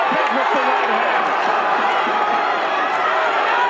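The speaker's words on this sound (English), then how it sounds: "Explosion now from this Galveston, Texas crowd." A boxing crowd in Galveston, Texas roars in a steady, loud wall of cheering that holds evenly throughout, with a commentator's voice running over it.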